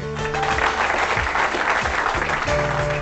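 A studio audience at a TV singing show claps loudly and steadily throughout, a dense, sustained round of applause with a faint musical tone underneath.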